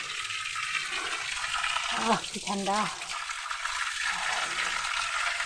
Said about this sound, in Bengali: এই সেই আম ঝর্ণা আপনাদের বলেছিলাম